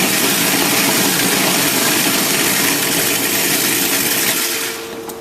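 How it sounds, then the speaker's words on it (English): A food processor pulses a batch of pesto while oil is poured in, giving a loud, steady motor whir that runs nearly unbroken and eases off just before the end. "while I'm pulsing it,"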